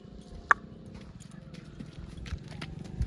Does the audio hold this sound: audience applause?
no